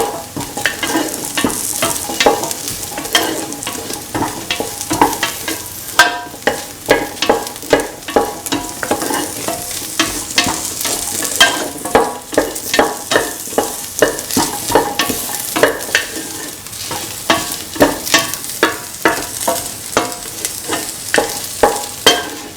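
Chillies frying in a pan hiss with a constant sizzle as a spoon stirs them over and over in quick repeated scrapes, close and fairly loud, with no one talking.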